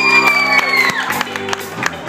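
Lively audience at a stage show clapping and cheering loudly, with whoops and shouts mixed into the crowd noise over a sustained musical tone.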